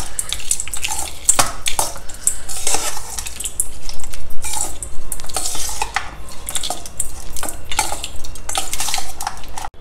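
A metal spoon scrapes and clinks steadily against a steel dish as tempering is stirred through lemon rice, with loud, busy, repeated scraping and clattering that continues for the whole stretch.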